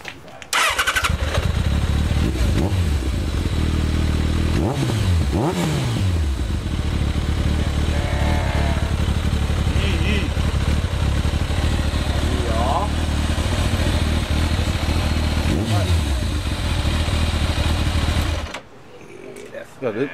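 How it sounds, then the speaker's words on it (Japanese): A Kawasaki ZZR1200 motorcycle engine with an aftermarket muffler runs steadily and loudly for most of the clip, with low rumbling revs and some rising pitch sweeps, before cutting off near the end. "エンジン音を聞きたいんですけどね。"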